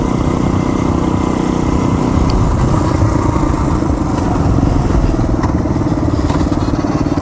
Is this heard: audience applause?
no